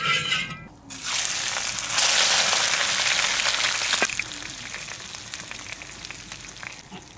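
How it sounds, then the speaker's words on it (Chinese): Hot oil poured over garlic, ginger, dried chili and Sichuan peppercorns on cooked blackfish, a sudden loud crackling sizzle that swells and then slowly fades into a softer hiss, close up, with no talking. "煮好的鱼肉上面来点蒜末、姜末、干辣椒、麻椒、花椒，少点油泼一下。"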